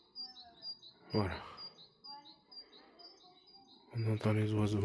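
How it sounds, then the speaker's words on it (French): Birds chirp outdoors in short, repeated tweets at moderate distance, while a person speaks in bursts over them. "On entend les oiseaux."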